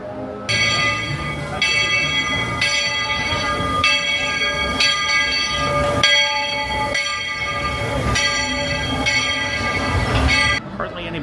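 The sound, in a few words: riding a railroad train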